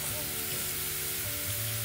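Buffalo burger patties sizzle steadily on a B&B charcoal grill, a continuous soft crackling fry with no voices over it.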